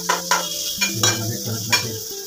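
Chopped onion frying in hot oil while a spoon stirs it, a loud sizzle broken by several sharp scrapes and clinks of the utensil against the pan, close up.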